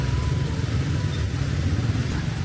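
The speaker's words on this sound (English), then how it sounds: "Oncoming traffic." Steady roar of oncoming road traffic in Vietnam, loud and continuous, with vehicle engines rumbling close by and two brief high squeals rising above the wash of noise.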